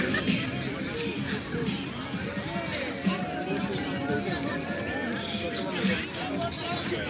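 Holiday crowd gathered at Coney Island for New Year's fireworks, a steady hubbub of many overlapping voices and chatter, fairly close and continuous throughout, with no single voice standing out.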